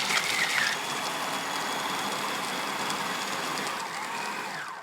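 A food processor blends dates and nut butter, a steady, continuous motor whir with a grainy churning texture holding an even level for the whole stretch, with no talk.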